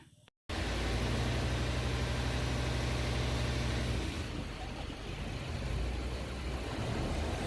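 A passenger vehicle's engine idles steadily and fairly loud on the road to Tagapul-an island in Samar, its low hum continuous after a brief silent start, softening slightly as the vehicle slows for a passenger.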